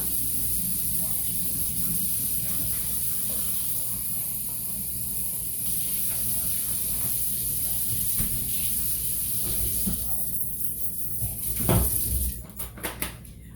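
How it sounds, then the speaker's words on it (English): Plastic bags from a meal kit rinsed under a running kitchen tap, a steady hissing rush of water with soft crinkling and a few thumps and clatters near the end. "I rinse these bags out before I throw them away so that they don't stink up the garbage"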